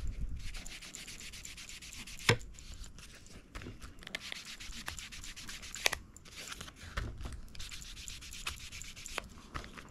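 Ink being rubbed onto paper edges for a junk journal page, a steady soft scratchy rubbing close by, with a few sharper taps and strokes through a quiet room.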